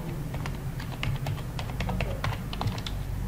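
Quick, irregular keystrokes clatter on a computer keyboard at close range, a steady run of light taps with no voice over them.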